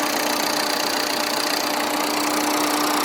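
A 2006 Tata Indigo CS diesel engine idling up close, a steady loud hum with a faint rattling knock throughout and no talking.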